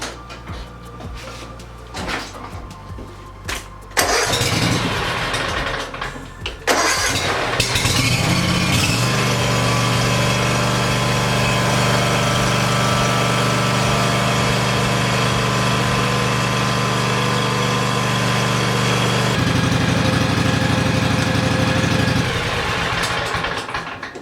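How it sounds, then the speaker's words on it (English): A Ferris IS 1500Z zero-turn lawn mower engine starts with a few sputters, then settles into a steady, loud, continuous warm-up idle close by, with a brief shift in tone toward the end. "I'm just going to warm up the engine for a couple minutes."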